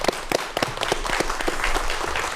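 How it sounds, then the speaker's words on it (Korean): An audience at an architecture science lecture keeps up dense, steady applause with many overlapping hand claps and no break. "큰 박수로 다시 한번 청해보도록 하겠습니다"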